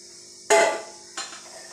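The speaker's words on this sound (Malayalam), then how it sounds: "നമുക്ക് ചീനച്ചട്ടി അടപ്പത്ത് വയ്ക്കാം" A metal kadai (wok) set down on a stovetop in a home kitchen: two distinct clanks, a loud ringing knock followed by a softer second one, close and with no talk.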